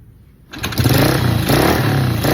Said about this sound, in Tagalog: pangit po yung tambuto ng motorsiklo na to